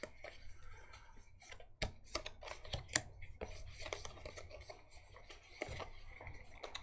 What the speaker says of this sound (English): Go through and straighten out all my damn cards because inevitably I end up shuffling wrong.